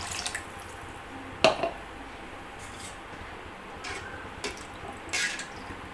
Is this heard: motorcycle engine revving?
no